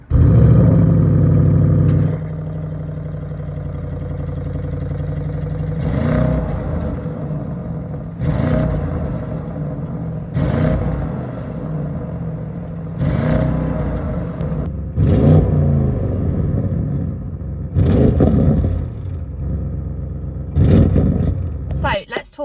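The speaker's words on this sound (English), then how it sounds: "So let's rev it up and hear the exhaust." An Audi RS6 Avant Performance engine revs in repeated surges over a steady low exhaust drone, with a person talking across much of it.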